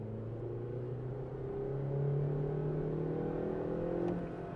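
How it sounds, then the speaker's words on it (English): A 2024 Honda Amaze manual car engine hums and rises in pitch as it revs up under hard acceleration in second gear, steady and close, with no voices. "I'm going to just kick the pedal. Listen to the engine."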